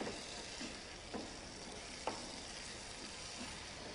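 Tomato sofrito sizzles in a pan as a steady, soft hiss, with a few faint clicks and stirring touches over it; quiet and continuous, no voices.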